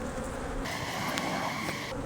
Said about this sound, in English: I got a bee up underneath my suit